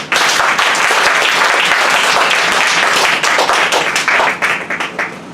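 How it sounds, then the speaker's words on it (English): A church congregation claps their hands during a prophetic teaching service, loud dense clapping close by, continuous and steady before thinning slightly toward the end. "Clap your hands if you are following."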